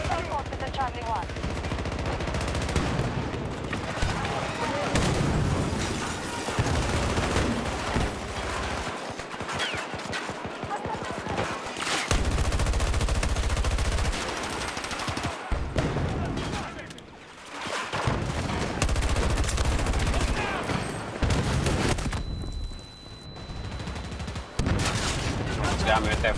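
Online shooter gameplay with dense, continuous automatic gunfire and heavy explosions, including a grenade blast, loud and sustained throughout with brief lulls.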